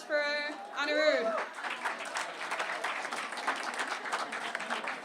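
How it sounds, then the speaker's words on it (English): An open mic night audience at a music club applauds a stand-up comic, sustained clapping from a crowd following a brief spoken introduction at the start. "Round of applause for Anirudh."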